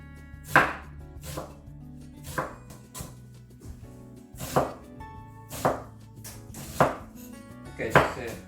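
A knife chops an onion into small pieces on a cutting board for a vegetarian mixed vegetable curry, with about eight sharp, evenly spaced chops, each close and distinct against a quiet background.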